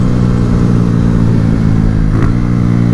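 A Honda Fan 125 motorcycle with its original CDI revs hard at high speed, a loud, steady buzzing engine drone held close and continuous throughout, with no talk.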